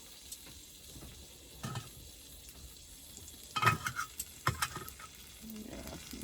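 Onions sizzling on a griddle in an ice fishing shack, a soft steady fry with a few louder scraping and stirring bursts near the middle, no talking.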